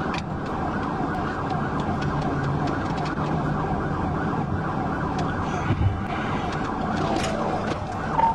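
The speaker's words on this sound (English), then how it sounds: "The officer activated the siren and lights to initiate a pursuit." A wailing police siren rises and falls continuously over road traffic noise during a pursuit, fairly loud and sustained, with brief bumps and shouts near the end.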